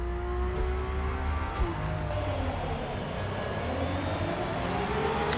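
A Ferrari 512 LM race car pulls away from the line at Le Mans in Forza Motorsport, its engine droning steadily with the throttle held. The note is a loud, continuous tone that rises slowly, with no break in the sound.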